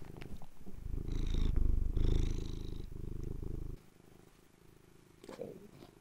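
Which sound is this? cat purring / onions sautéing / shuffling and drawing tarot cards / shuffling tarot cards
cat purring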